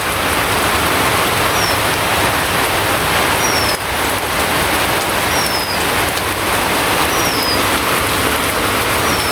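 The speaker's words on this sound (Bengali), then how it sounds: "দেখেন প্রচুর বৃষ্টি নেমে গেল" Heavy rain pours down in a village, a dense, loud, unbroken hiss of drops on surfaces that holds steady throughout with no voices.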